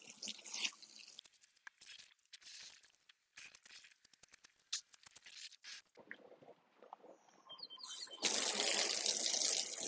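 Wet brushing on a solar panel with a soft bristle brush and water: scratchy hiss in bursts, then a steady loud rush of running water near the end.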